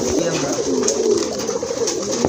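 Pigeons coo steadily and close by at a pigeon farm, soft throaty calls overlapping without a break and with no talking.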